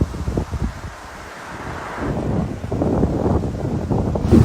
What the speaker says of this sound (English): Proper windy this morning, and it's sort of coming at us from the side.